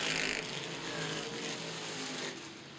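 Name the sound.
stock cars racing at Winchester Speedway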